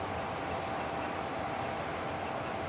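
A hydroelectric power plant turbine and generator run with a steady, loud, broadband roar and a constant mechanical hum, unchanging throughout.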